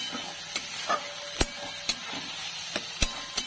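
Ginger, garlic and onion paste frying in a pan for egg biryani, a soft low sizzle punctuated by sharp, regular taps and scrapes of a spatula against the pan.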